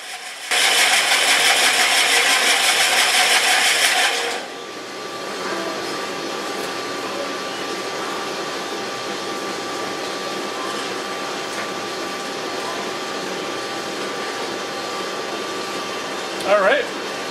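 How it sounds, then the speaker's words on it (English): A rock sphere machine grinds a fairly soft stone, opening with a loud rough whirring burst that drops after about four seconds to a steady lower hum, with a brief clatter near the end. "back in the sphere machine here and ran it for almost about 7 more minutes"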